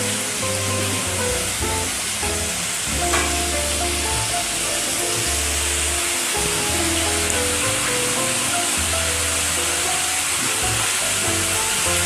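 Small fish simmering in gravy in a pan give a steady, fairly loud sizzle and bubbling hiss that runs unbroken with no talk, and low tones rise and fall beneath it.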